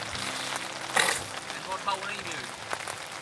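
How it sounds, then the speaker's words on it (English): Steady rain falls at a carp fishing lake, an even outdoor hiss with some heavier patters, while someone talks over it. "And now it's raining."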